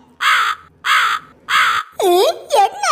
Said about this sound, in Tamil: என்ன காக்கா சத்தம் கேக்கு?